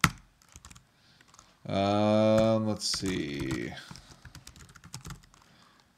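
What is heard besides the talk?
typing on a computer keyboard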